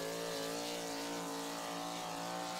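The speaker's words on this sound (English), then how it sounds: "I'm listening to that motor saying, Carl doing a great job" A high-revving pulling truck motor roars steadily at an outlaw truck pull in Rock Valley, Iowa, a loud sustained harmonic engine note that holds without a break.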